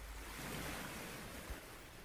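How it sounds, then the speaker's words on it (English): Gentle ocean waves wash on the shore in a soft, broad continuous rush, quiet and even, with a slight swell and ebb and no voices. "I am going to leave you with the gentle sound of the waves for a few moments."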